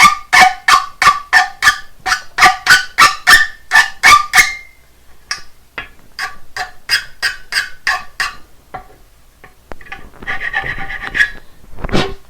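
A file deburring the cut end of a metal satellite dish LNB arm, heard as a rapid run of loud, close, rhythmic rasping strokes that slows into scattered scrapes and a final rough burst of rubbing.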